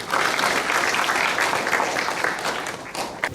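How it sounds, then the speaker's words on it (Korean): An audience at a workplace safety and health seminar applauds in a steady, loud burst of clapping that carries on throughout with little variation. "박수 부탁드립니다"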